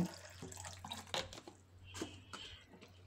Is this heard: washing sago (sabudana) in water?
yes